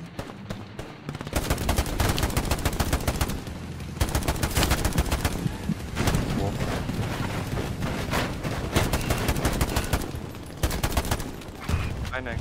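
Dense, sustained gunfire and rapid automatic bursts in a Stalingrad battle video game, loud and continuous with only brief pauses, a voice faintly present beneath the shooting.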